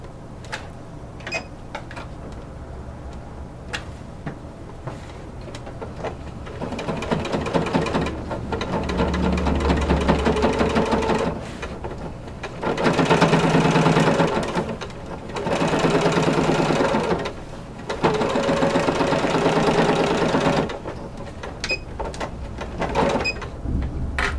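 A sewing machine stitches down corset bone casings in bursts of steady whirring, stopping and starting several times at close range with no voices.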